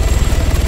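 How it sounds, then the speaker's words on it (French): Helicopter in the Altis Life mode of Arma, a loud low rotor thrum with steady rhythmic beating heard from inside the cabin, continuous and alone. "Alors, on est en hélicoptère, donc ça va aller."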